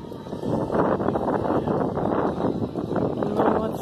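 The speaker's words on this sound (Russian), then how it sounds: "Ветер поднялся." Wind rises at the seaside on the Black Sea as light rain begins, a loud, steady blustery rush buffeting the microphone with no clear talking.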